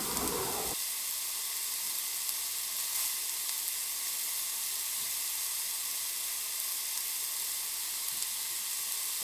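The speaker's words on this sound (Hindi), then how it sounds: "हल्की आंच पर मसाले को भूनिए" Masala sizzles steadily in a pot over a low flame while cooking kofta curry, giving an even, close frying hiss with a brief stir or clatter at the start.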